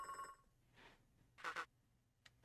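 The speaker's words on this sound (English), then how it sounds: "Oh, it's the phone." A telephone rings in the video game Beacon Pines, with short bursts of electronic ringing separated by gaps, fairly quiet and with no speech.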